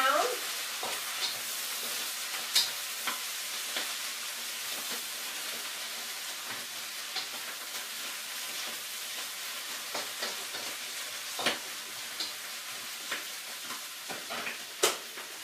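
Garlic and pea shoots fry in hot oil with a bright, constant sizzle and hiss, and a spatula occasionally taps and scrapes the pan as the greens are tossed quickly.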